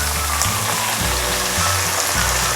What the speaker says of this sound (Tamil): இப்போ இதே எண்ணெயிலே நல்லா வதக்கிக்கலாம்.